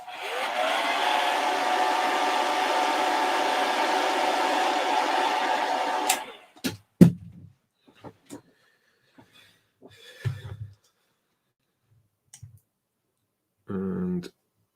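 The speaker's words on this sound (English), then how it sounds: "Just gonna hit this with a hairdryer." A hairdryer blows steadily to dry paint on a miniature figure, a loud continuous whoosh lasting about six seconds before cutting off, followed by scattered clicks and handling noises.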